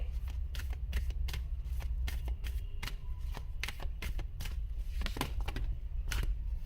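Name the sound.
drawing tarot cards from the deck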